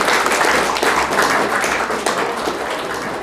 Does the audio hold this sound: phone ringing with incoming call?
no